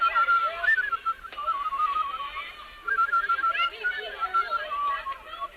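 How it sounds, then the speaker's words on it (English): A person whistles a wavering, halting tune, trailing off into a pause and then starting again, close and fairly clear. "I hope I can still whistle."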